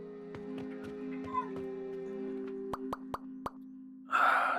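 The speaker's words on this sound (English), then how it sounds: "I hear a cat" A cat meowing in short, faint calls amid a busy game soundscape of droning tones, sharp plopping clicks and a closing burst of noise.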